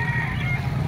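Chickens and other birds at a Calumpit, Bulacan market, heard as a brief, loud, close burst of clucking and crowing with a steady low market hum underneath.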